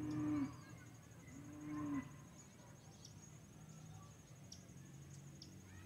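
A cow lows twice near a farm corral, two drawn-out moos in the first two seconds, as it searches for its calf, with rural background noise and faint insects after.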